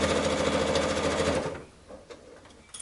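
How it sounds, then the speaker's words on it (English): A sewing machine stitches through quilting fabric while making a scrappy zippered box pouch from leftover fabric: a loud, steady, close mechanical run for about a second and a half, then it stops and soft handling noises follow. "There is no need to backstitch here because we'll be cutting off those pieces, so just make sure, you know, just sew through."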